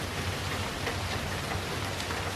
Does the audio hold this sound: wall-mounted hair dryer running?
no